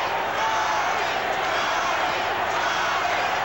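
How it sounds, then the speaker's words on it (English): A large baseball crowd at a 1985 World Series game in Kansas City fills the air with a dense, continuous roar of chanting and cheering, loud and unbroken throughout. "Crowd chanting, Charlie, Charlie."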